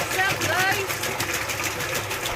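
Electric motor fitted underneath a dayrec machine on its stand, running with a steady mechanical hum and whir; a person talks over it throughout.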